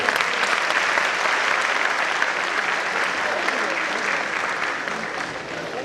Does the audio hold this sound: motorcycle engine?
no